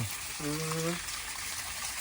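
Fresh water runs from a small motor pump into a farm pool with a steady, rushing gush throughout. A voice briefly speaks over the flow.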